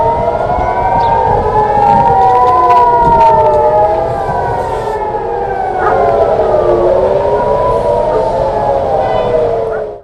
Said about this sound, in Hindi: यरूशलेम में भी लगातार हमले के सायरन बज रहे हैं।